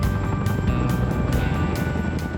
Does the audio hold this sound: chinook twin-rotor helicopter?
yes